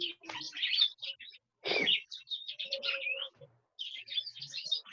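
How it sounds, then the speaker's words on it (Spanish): Several birds chirp and tweet close by in bright, rapid bursts separated by short pauses, with a brief voice cutting in partway through. "Te están diciendo chao los pájaros,"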